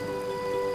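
Steady rain in a Tamil TV drama scene, an even, continuous hiss of falling drops with no voices, lasting under a second.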